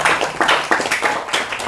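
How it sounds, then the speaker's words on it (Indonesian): Audience applause at a talk, several bursts of clapping close together, fairly loud, with no speech over it. "Tepuk tangan untuk kita bersama"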